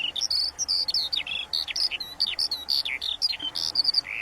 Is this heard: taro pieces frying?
no